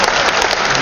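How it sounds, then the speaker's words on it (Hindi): Brief, loud burst of audience clapping at a Hindi comic poetry gathering in a hall in Jamshedpur, lasting under a second with no speech. "ताली हाथ उठा के बताओ एक बार जोरदार"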